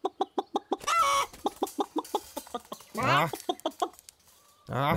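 Chickens in the Minecraft video game cluck in a rapid, evenly spaced series of short, loud pops, broken by a few longer bursts of voices.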